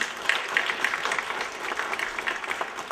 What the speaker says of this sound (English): I'd like to take this opportunity to just give a round of applause to those faculty